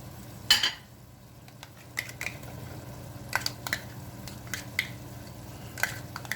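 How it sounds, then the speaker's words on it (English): Cooked ground beef in a pan as Worcestershire sauce goes in, a soft low sizzle punctuated by scattered clicks and scrapes of a spoon stirring against the pan, fairly quiet and close. "As soon as you see that the beef is cooked, put in the Worcestershire sauce"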